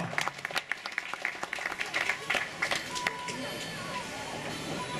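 Roadside crowd applauding the first-stage winner of the Agglo Tour 2014 cycling race, a steady ripple of clapping and scattered cheers running throughout while an announcer talks over a loudspeaker.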